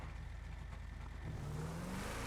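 A partly upgraded, powerful truck in GTA V on a FiveM server, its engine droning at a steady idle and then rising into a rev near the end, heard alone without talk.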